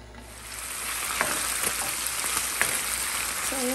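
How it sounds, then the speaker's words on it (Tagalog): Chicken browning in a hot pan for a stir fry with vermicelli noodles, a steady dense sizzle and crackle with occasional spatters and stirring scrapes, close and continuous with no talking. "Pag-brownin lang natin ng konti yung ating chicken."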